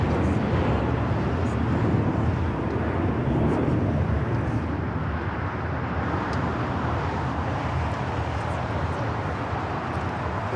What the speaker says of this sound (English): the Turkish A350 taking off on the north side at 24 left